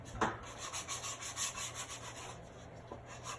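Steady rhythmic rubbing of sandpaper along the edges of a wooden piece, close and fairly quiet, in repeated back-and-forth strokes.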